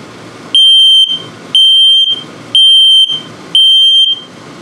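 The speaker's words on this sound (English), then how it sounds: "LP is good, carbon monoxide coming up, and then the low battery alert." A loud electronic alarm from an RV's LP and carbon monoxide detector beeps four times in an even, repeating pattern, each piercing tone lasting about half a second with short gaps between.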